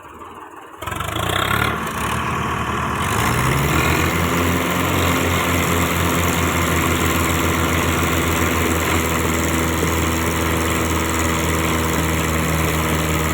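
A tractor engine hauling a heavy full load of 200 sacks turns over and then runs loud and close, a steady low droning roar that holds unbroken to the end.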